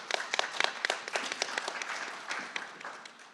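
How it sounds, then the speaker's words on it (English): Applause from an audience at a creative protest gathering, a short burst of scattered, moderately distant clapping that thins out and fades over a few seconds. "we can give Michael a round of applause"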